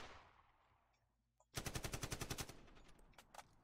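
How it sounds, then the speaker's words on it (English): Rapid machine-gun burst of about a dozen sharp shots in quick succession, loud and close, followed by a few scattered single shots trailing off, after a quiet fading whoosh. "I dive to the ground, the sound of bullets fly over my head"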